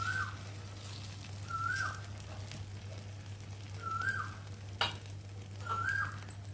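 Egg frying in a little oil, a steady soft sizzle with occasional spattering pops, joined by a repeated short whistling chirp and a low constant hum.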